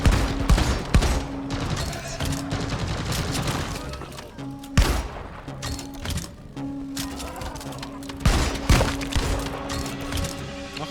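Deep Rock Galactic gunfire aimed at exploders, heard as a loud continuous fusillade broken by heavy thumps and booms, with a steady tonal drone underneath.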